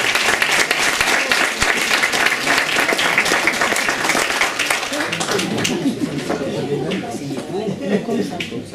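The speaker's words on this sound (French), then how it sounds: "Vous pouvez les applaudir." An audience at a golden, diamond and platinum wedding anniversary ceremony applauds a couple, dense loud clapping that thins toward the end while a voice starts talking over it.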